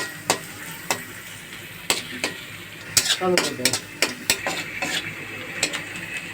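Sliced onions fry in oil in a pan for an eggplant bhorta, a soft sizzle beneath repeated sharp scrapes and clinks of a spatula stirring against the metal pan.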